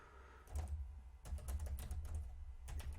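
Fingers tap on a computer keyboard in short irregular bursts of crisp, close clicks, with brief pauses between the runs of keystrokes.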